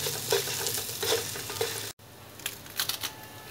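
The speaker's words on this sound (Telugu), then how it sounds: "అల్లం పేస్ట్ వేసుకొని మనం ఇలా కలుపుకోవాలి." Ginger paste frying with green chillies and onions in a pan, stirred for chicken dum biryani: steady close sizzling with a few spoon scrapes, then a brief break and quieter sizzling, no talk.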